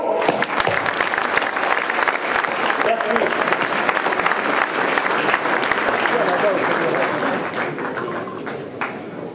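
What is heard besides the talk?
audience applause at car dealership inauguration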